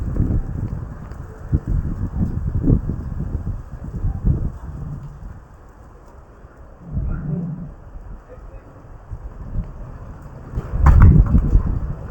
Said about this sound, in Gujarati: પવન બહુ છે